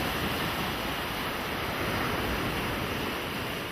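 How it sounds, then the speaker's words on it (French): Ocean waves break along a rocky coast, a steady broadband roar of surf with some wind mixed in, continuous and fairly loud with no pauses. "Partout, inlassablement, vagues après vagues, la côte se rongeait."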